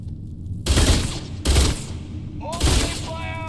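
Gunfire in the video game Starfield, played on extreme difficulty: three loud, close bursts of rapid shots, each with a heavy low boom, set against a steady game background.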